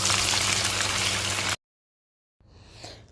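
Cauliflower pakoda deep-frying in hot oil gives a steady, dense sizzle and crackle that stops abruptly, then returns more faintly after a short silence.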